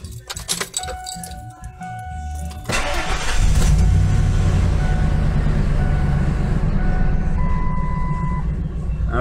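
Keys jangle and click briefly before a truck engine cranks and catches, settling into a loud, steady idle rumble heard close up, without any talking.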